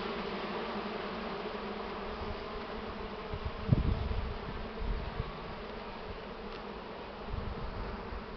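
Bees droning steadily at an opened hive while supers are added to expand the nest, a continuous low buzz with a few louder passes close by.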